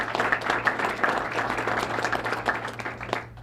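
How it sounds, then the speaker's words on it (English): Round of applause from an audience at a jobs announcement event in Baton Rouge, a dense clatter of many hands clapping close by, steady with small swells and no talking over it. "Let's give them a round of applause as well."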